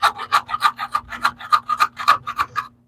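Edge of a trowel scraping and smoothing mortar on a bathroom floor, a close rhythmic series of about fifteen short rasping strokes that stops abruptly at the end.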